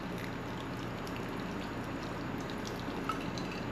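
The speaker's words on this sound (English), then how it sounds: "A little more water." Water is poured into a hamburger meat mixture seasoned with Worcestershire sauce, prepared for smoked hamburgers. It makes a steady, continuous splashing trickle that runs throughout, with no talking.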